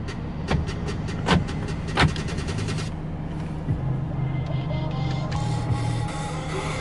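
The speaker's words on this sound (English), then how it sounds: "Central locking." Central locking on a 2023 Foton Thunder 2.0 4x2 manual pickup actuates in a few sharp, close mechanical clunks spaced about a second apart, over a steady low engine hum.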